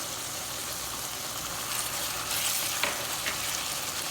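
Onions sautéing in a pan, a steady close frying sizzle that runs without a break, swelling a little partway through, with a soft clink of utensils.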